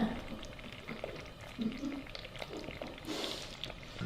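Hot liquid for millionaire's shortbread pours in a soft, faint trickle, with brief splashes and drips, while people talk quietly nearby.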